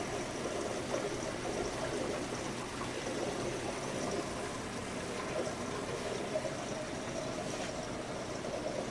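A steady rushing trickle of aquarium water drains from a tank into a sump below, continuous and moderately quiet with a faint mechanical hum underneath.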